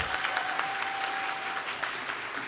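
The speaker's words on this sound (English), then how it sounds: "Could we have a round of applause for Carolina Biolaska?" An audience at the Miss World America final applauds the reigning Miss World, a continuous wash of clapping with a faint sustained tone running beneath part of it.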